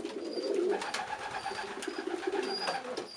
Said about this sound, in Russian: Вот голубка начинает из зоба отрыгивать корм.